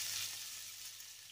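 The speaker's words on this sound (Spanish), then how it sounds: "en una sartén, en la misma que hemos utilizado, la hemos limpiado, un chorrito de aceite, introducimos la zanahoria y salteamos brevemente con un poquito de sal" Carrot sautéing briefly with a splash of oil and a pinch of salt in a frying pan gives a soft, steady sizzle, faint and close, with no voices.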